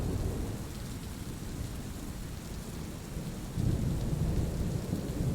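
Heavy rain falls with rolling thunder, a dense continuous roar that swells louder partway through, steady and enveloping with no voices.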